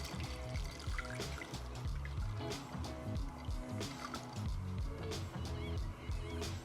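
Onion and vinegar liquid is poured through a sieve, making a faint, steady trickle and splash with a soft, regular pulse running underneath.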